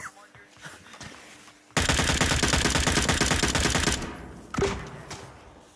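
Loud sustained automatic gunfire in the VR shooter game Onward, a rapid rattling burst lasting about two seconds, followed by a single later shot and quieter background sounds.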